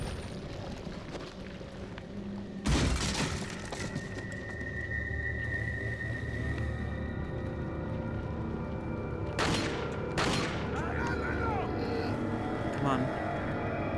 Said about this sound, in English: They heard my loud-ass gunshots.